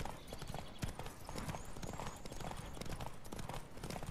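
Rapid, even hoofbeats of a horse in The Witcher 3: Wild Hunt pound in a steady galloping rhythm, quiet and continuous, with no voices.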